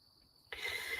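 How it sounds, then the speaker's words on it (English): Crickets chirping at night, a faint high steady trill that grows suddenly louder and denser halfway through, with no voices. "So just hearing crickets, man, it seems like I'm camping every night."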